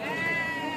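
Goats at the Kadiri goat market give steady overlapping bleats with clear harmonic tone, close by and continuous through the brief moment, amid market bustle.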